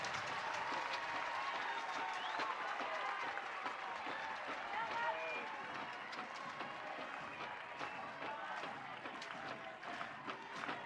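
A softball crowd at an Oklahoma vs. Clemson NCAA super regional game claps and cheers steadily. The applause sounds fairly distant and holds even throughout, while an announcer talks over it.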